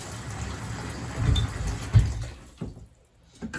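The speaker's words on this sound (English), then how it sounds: "And you put enough water in to cover the jars." Water gushes and splashes as it is poured into a water bath to cover jars of raw milk yogurt, surging in uneven bursts and then tapering off to near quiet.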